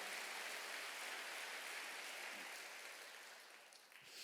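A church congregation clapping together during a Sunday worship service, a steady, dense wash of applause that holds at full strength and then gradually thins toward the end.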